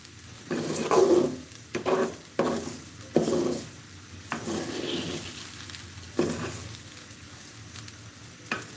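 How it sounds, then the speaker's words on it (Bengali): Pulao being stirred in a pot during cooking, with intermittent scraping and sizzling strokes every second or so, fairly close and moderately loud, easing into a steadier low sizzle. "দু তিন সেকেন্ড পরপরই কিন্তু নেড়ে দিতে হবে যাতে নিচে লেগে না যায়"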